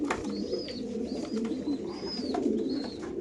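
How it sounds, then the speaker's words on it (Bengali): A male racing pigeon in a cage coos several times in a short rhythmic series, close and fairly soft, over a low murmur of background noise. "খাঁচা নাম্বার 99 একটা নর কবুতর দেখতে পাচ্ছেন দর্শক আপনারা"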